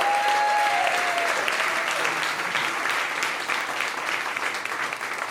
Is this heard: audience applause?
yes